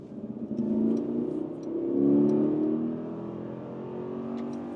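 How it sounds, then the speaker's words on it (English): V8 engine of an SUV with mild hybrid assist accelerating hard in sport mode, a deep steady growl rising through gears with brief shift dips, heard from inside the cabin. "Yeah, that V8 is going quite well."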